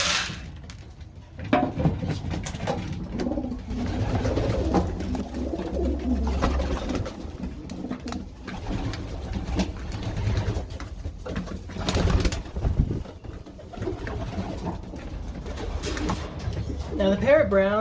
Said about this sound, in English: let's feed the pigeons